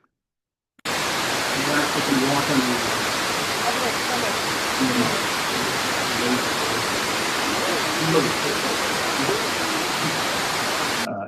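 Water rushes down a very steep mountain stream in Colombia, an unbroken, dense roar that starts abruptly and stays loud and even throughout.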